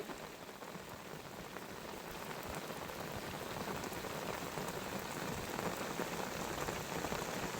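Rain pours onto a river, a dense, even hiss of countless drops that stays constant and slowly grows a little louder, with no voices.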